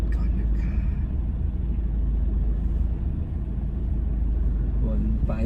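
Car engine idling and rolling slowly around a large school field during a driving lesson, a steady low rumble with continuous road noise, heard alone without talk.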